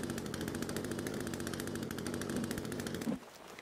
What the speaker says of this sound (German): Wenn ich jetzt die Kettensäge zum Beispiel ausrüste